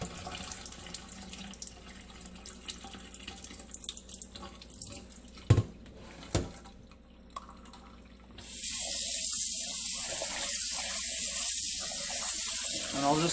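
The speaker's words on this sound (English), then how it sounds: "And I'll just keep doing this until this water starts to clear up a lot." Chicken thighs rinsed under running water in a sink: a few soft knocks and splashes at first, then a loud, steady rush of tap water pouring over the meat.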